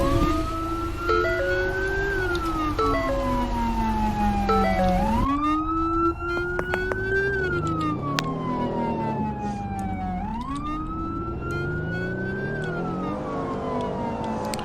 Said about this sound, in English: You just hear Red's car in the distance.